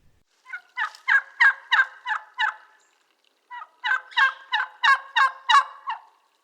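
A turkey gobbles twice in close succession, each call a rapid rattling run of about six pulses, loud and clear with quiet background and no talking.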